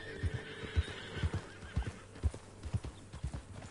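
A thoroughbred horse in Red Dead Redemption 2 whinnies once, then its hooves clop in a steady, close rhythm of soft thuds.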